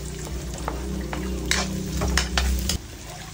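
Garlic sautéing in a pan for ginisang talbos ng kalabasa, a close, continuous frying sizzle with a few crackles and light utensil clicks, ending abruptly, no speech over it.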